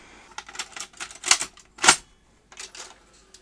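A 1978 Philips N1700 VCR-LP video recorder running after power-up gives off a series of irregular mechanical clicks and clatters, some louder bursts among faint ticking, with brief quiet gaps and no speech.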